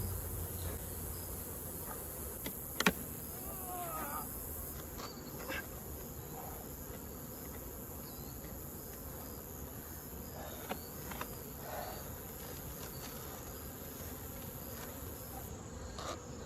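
Honey bees buzz around hives outdoors, a continuous faint droning hum with individual insects passing nearby and a few brief knocks.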